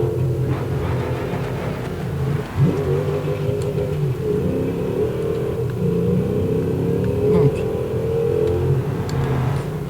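A heavy two-tonne family car accelerates on a motorway, its engine droning in a steady close rumble with rising revs and a faint whir, recorded from inside.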